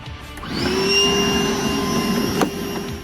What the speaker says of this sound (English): So when you vacuum, you want to make sure you get all these little areas inside here.